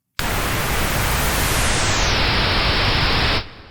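A noise sample in the Vital synth sweeps down two octaves from its original pitch, a loud continuous hiss that darkens as it falls, then cuts off abruptly after about three seconds.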